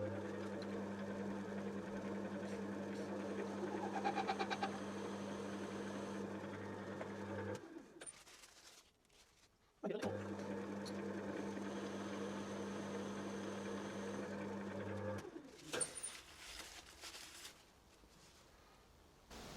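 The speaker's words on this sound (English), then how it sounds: "I'm going to cut a groove at the finished width." A lathe cuts a groove in a spindle nut for a Quorn Mk3 tool grinder, giving a steady motor hum with a whirring cut that stops twice for brief pauses before resuming, close and continuous, with no talking.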